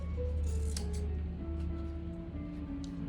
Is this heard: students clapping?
no